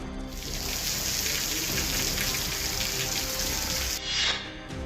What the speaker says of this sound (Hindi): झारखंड में झमाझम बारिश हो रही है।